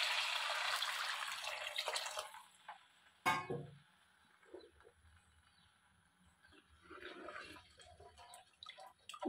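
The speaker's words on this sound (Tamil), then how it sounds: "இனி இதில் நாம் தண்ணி ஊற்றி விட்டுருவோம்." Water splashes and trickles into a pot of river fish curry, with a brief louder pour midway, then softer dribbling and light clinks in a quiet room.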